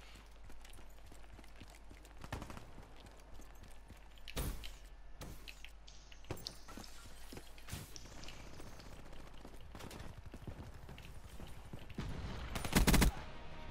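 Scattered gunshots from a Marshal pistol in Call of Duty Black Ops 3 ring out as sharp separate bangs among game noise and footsteps, with a louder burst of shots near the end.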